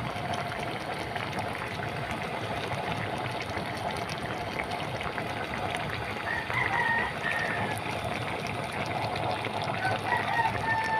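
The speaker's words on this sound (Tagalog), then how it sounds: "Sarap isabay dito yung mga tumitilaok na yan." Roosters crow a few times at a distance over a steady, dense background hiss, with no voices standing out.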